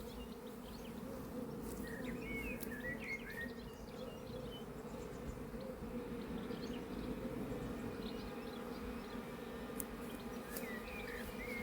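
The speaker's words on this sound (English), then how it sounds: "definitely didn't anticipate there being this many bees in here" A dense swarm of honey bees hums steadily around an opened hive with comb, a continuous close buzz lasting the whole stretch with a few brief higher whines from passing bees and no talking.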